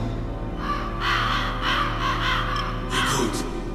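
Crows cawing in the Metal Gear Solid video game, a few harsh calls in short bursts over a steady low hum, fairly close and moderately loud.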